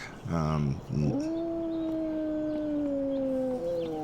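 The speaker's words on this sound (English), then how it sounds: "that wolf howl or the dog howl worries me" A wolf or dog howls in the HumanitZ survival video game, a single long, wavering, mournful howl that follows a few short yelps and sits clearly over low background ambience.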